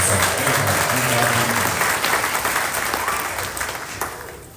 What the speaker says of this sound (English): So clap it for yourself.